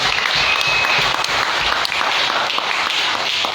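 A church congregation breaks into sustained, dense applause during a Sunday worship service, loud and continuous from start to finish.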